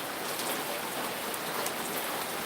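Heavy rain pours down steadily with wind, a dense continuous hiss of drops on surfaces, loud and unbroken throughout.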